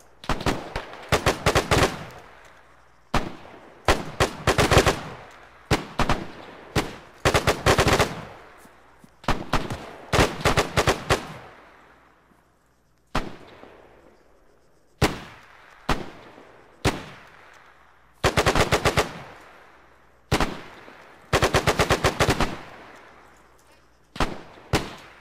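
Rifles and machine guns fire at a WW2 reenactment battle in Death Valley, loud close bursts of rapid automatic fire and single cracks repeating across the whole stretch with short gaps between volleys.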